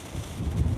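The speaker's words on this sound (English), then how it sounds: "It is really windy out here" Outdoor wind buffets a microphone in a brief, low, uneven rumble that swells and dips over less than a second.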